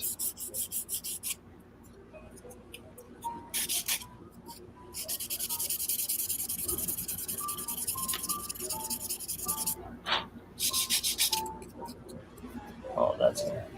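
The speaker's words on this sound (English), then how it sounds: "I don't want to drill all the way through this plastic." A hand spin drill grinds into plastic in short scratchy bursts of rasping, starting and stopping irregularly at close range.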